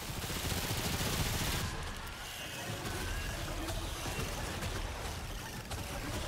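Dense, continuous crackling bursts of fireworks-style explosions in the video game Remnant 2, loud and unbroken, with a brief dip in intensity partway through before the barrage resumes.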